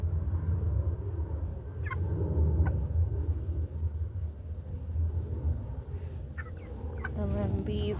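Domestic fowl, including turkeys, call and gobble in a few short bursts over a low rumbling background, fairly faint and close by, with a louder gobbling run near the end.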